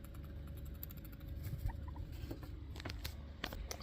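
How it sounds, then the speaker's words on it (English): A pet guinea pig makes quick chattering, clucking sounds at close range over a steady low indoor hum, with a few sharper bursts toward the end. "Why are you chattering, Bubby?"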